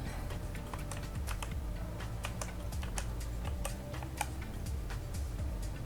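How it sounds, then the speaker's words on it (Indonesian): Quick, irregular clicks of fingers typing a web address on a computer keyboard, close and fairly quiet, with no talking. "Kemudian kita ketik web Man 4."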